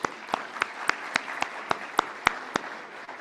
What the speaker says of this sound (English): One more round of applause, President Núñez, please.